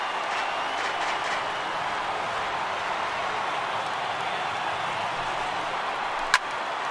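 A large baseball stadium crowd in a video game keeps up a broad, steady cheering roar at a tense moment of a Phillies versus Padres game. The noise is continuous and even, with one brief sharp crack near the end.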